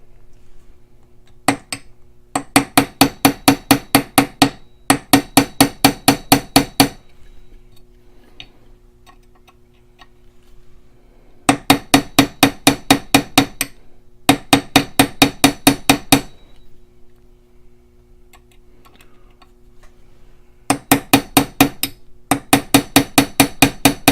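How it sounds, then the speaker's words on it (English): Hammer tapping a bolt catch into the lower receiver of a Barrett .416 rifle, struck in rapid bursts of about ten sharp metallic taps each, loud and close, with short pauses between groups. "let's finish tapping this in"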